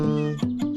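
An animated cartoon cat gives two or three short, close, clear meows in quick succession, with no talking over them.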